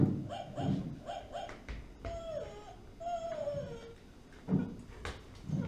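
On stage during a performance of A Midsummer Night's Dream, a dog gives a few short whimpers and then a rising and falling howl, with soft thumps. The sounds are moderately close and no one speaks.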